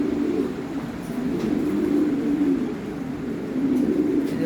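Lahori Sirazi pigeons in a loft cooing, a low continuous murmur of several birds overlapping at close range, steady throughout with no speech.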